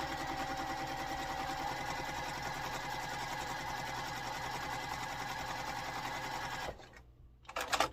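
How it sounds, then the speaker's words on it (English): A sewing machine stitching a quilt block runs in one continuous, rapid mechanical whir, close and even, then stops abruptly, leaving a few small clicks and handling noises. "we're going to sew on both sides of this line just like it was a big half square triangle"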